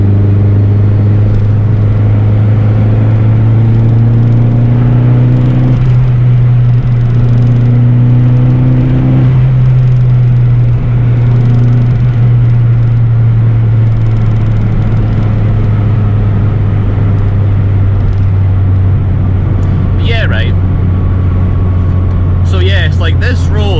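A Vauxhall Corsa B with a C20LET 2.0 16V turbo engine drives along a smooth road, giving a loud, steady engine drone and tyre rumble recorded from inside the car, with the revs shifting slightly and a few brief clicks near the end.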